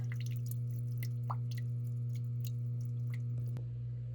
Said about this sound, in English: You can see water is dripping out now, so I know that I have enough in the tank to fill it.